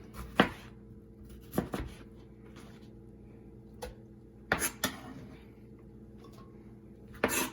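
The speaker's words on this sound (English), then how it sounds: "Just give a rough cut to the onions as well." Scattered knife chops roughly cutting onions on a cutting board, a few irregular sharp knocks with pauses between, close and moderately quiet.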